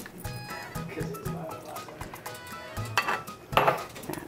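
A spoon stirs chocolate melting with butter and tequila in a pot, making irregular close-up scrapes and metallic clinks against the pan with some soft wet sounds.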